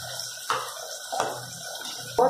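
Water splashes into a pan of Hyderabadi salan with tomatoes and stuffed chillies during cooking, in three short pours over a steady background hiss, with no talking.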